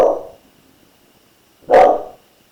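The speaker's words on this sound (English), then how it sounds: "Sorry about the dogs." Dogs barking indoors: two loud, close single barks separated by more than a second of quiet.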